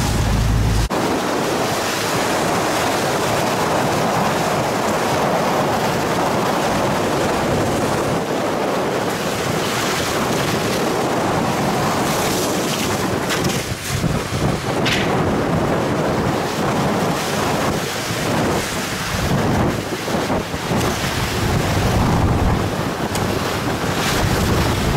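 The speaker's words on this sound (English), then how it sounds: "There's a fair bit of sea on out here" Choppy sea off the west coast of Tasmania on a crayfishing boat, with waves crashing and slapping against the hull under constant loud wind roar for the whole stretch.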